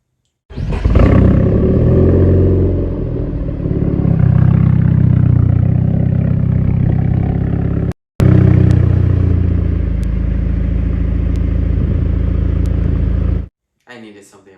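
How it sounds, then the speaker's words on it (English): A Chrysler 200 with a loud aftermarket quad-tip exhaust roars through long, heavy revs close up, cuts out briefly, then drones on at high volume before stopping abruptly. "I did the craziest quad tip exhaust that you can offer on any car"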